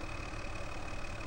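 A tractor engine idles in the video game Farming Simulator 2013, a steady low mechanical hum with a faint whine over it, even and unbroken for a brief moment with no talk.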